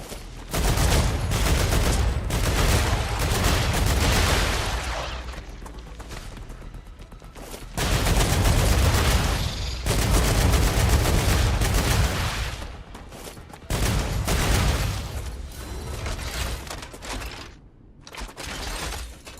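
Turret gunfire in the sci-fi factory-building game StarRupture: dense, rapid automatic bursts roar almost continuously for long stretches, loud and close, broken by brief gaps.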